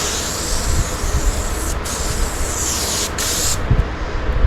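Aerosol can of smoke grey spray paint hissing steadily while laying a third coat on a car part for a show-car finish, with two brief pauses between passes; a continuous, close, fairly loud spray.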